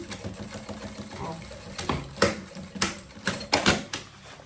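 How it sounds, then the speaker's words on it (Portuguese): A sewing machine runs in short bursts while stitching the fabric lining of a small bag, its rhythmic mechanical chatter rising and pausing, with a person talking over it. "costuro um pedacinho aqui, os 2 dedinhos"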